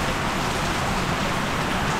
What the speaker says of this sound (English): Hella rainy.